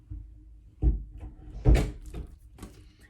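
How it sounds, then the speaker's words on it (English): Two firm thumps of a door being pushed shut indoors, a soft one followed by a heavier close, then a faint rattle, with no talk. "Okay, shut the door."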